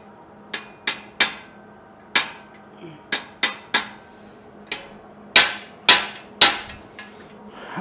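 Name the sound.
hammering a bolt back into place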